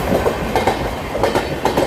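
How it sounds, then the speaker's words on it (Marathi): A passing Mumbai AC local train rumbles loudly and continuously, heard from a Churchgate–Virar fast local, with a rhythmic clickety-clack of wheels over rail joints close by. "AC लोकलची क्रॉसिंग."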